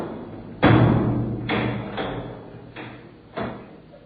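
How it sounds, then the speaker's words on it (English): A heavy soundproof door closes with a loud thud, then several softer knocks and bumps follow at uneven intervals as it settles shut. "Close the soundproof door."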